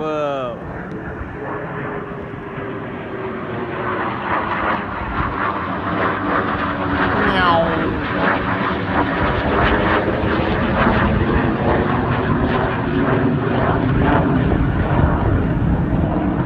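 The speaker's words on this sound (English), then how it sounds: "Jets! Whoa! It's so loud!" Jet aircraft roaring loudly overhead, a sustained broadband engine rumble that swells and persists throughout, with an excited voice exclaiming over it.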